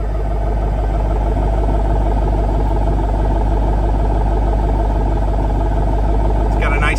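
A 2007 Ford Mustang GT convertible runs with a loud, steady low exhaust drone that holds constant throughout, with some clatter mixed in.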